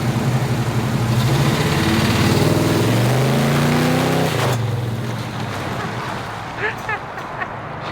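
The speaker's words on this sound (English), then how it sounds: "I'll do one just dump the clutch" A Pontiac Firebird's engine revs hard and launches with the clutch dumped, a loud close roar that climbs in pitch then fades as the car pulls away, with voices briefly audible near the end.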